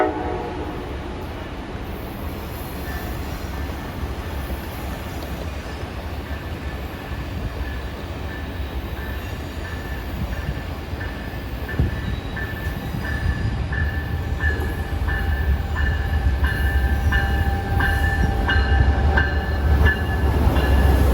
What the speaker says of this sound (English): the approaching train.